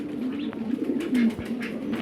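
Pigeons coo softly in a room housing hundreds of the birds in Qatar, with low, repeated throaty calls and faint rustling close by.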